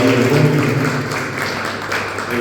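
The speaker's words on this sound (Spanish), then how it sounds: "vamos a darle un aplauso a Freddy" An audience at a poetry book event applauds for an honoured writer, a steady wash of many clapping hands at moderate loudness through the whole moment, with faint voices mixed in.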